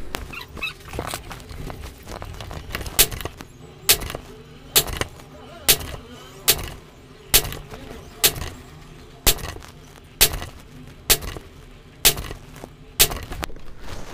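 Regulated Hatsan Nova Star air rifle firing a long series of sharp, close shots at a steady pace, roughly one every second, each a crisp crack with a short tail, no talking.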